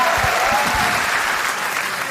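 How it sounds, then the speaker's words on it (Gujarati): An audience at a live comedy show bursts into loud, dense applause at close range, fading slightly toward the end, with no talk over it. "તાળીઓ થઈ જાય એમના માટે એક વખત જોરદાર"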